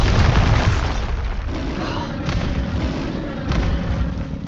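Bombarda spell explosion in the Hogwarts Legacy video game, a heavy booming blast at the start followed by lingering rumble and a few further impacts.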